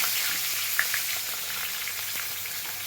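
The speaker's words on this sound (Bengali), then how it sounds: "পেঁয়াজটা একটু ভেজে নিই" Chopped onion frying in hot oil with whole spices and bay leaf, a steady soft sizzle and crackle with a couple of brief pops near the start, close by and without talk.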